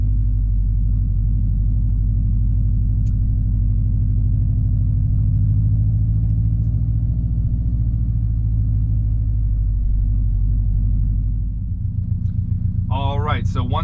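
A 2019 Subaru STI S209 with a manual gearbox driving in gear, a loud low engine rumble heard from inside the cabin, steady then easing off near the end, when a voice briefly speaks.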